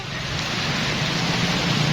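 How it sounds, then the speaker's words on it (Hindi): Rain on a journey near the Wagah border by Lahore makes a dense, even hiss with a low rumble like passing traffic underneath, steady and fairly loud throughout, with no talking. "यार ये बारिश स्टार्ट हो गया"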